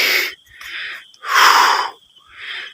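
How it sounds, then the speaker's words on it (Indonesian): A hiker climbing a mountain trail pants heavily with wheezy, gasping breaths, four loud, close in-and-out pulses in an uneven rhythm. "Ngap, napas perokok."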